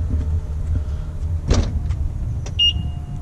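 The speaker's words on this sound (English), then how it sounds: "and the car locks." A 2014 BMW X5 xDrive50i with M Sport package auto-locks after the owner walks away: a brief mechanical clunk followed by a short chirp, heard faintly against low outdoor background rumble.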